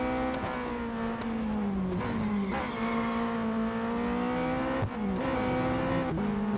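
Race car engines in the video game Real Racing 3 rev and shift up repeatedly in a close whine that rises and drops, with brief tire noise and no talk over it.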